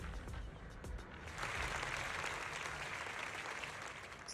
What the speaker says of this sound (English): speech is met with a wave of prolonged applause